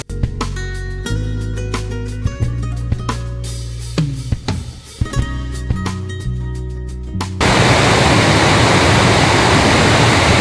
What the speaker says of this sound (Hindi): कितने ऊंचे पहाड़ी से भाई ये झरना आ रहा है दोस्तों, भयंकर है